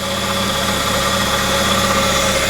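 A Mitsubishi Eclipse engine, repaired after flood damage, runs steadily close by. It gives a loud, even idle with a constant hum and no talk.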